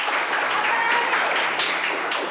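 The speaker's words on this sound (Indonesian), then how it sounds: "Tepuk tangan dulu." A classroom of sixth-grade pupils clapping hands together, a dense, close, steady patter of many small hands lasting a couple of seconds.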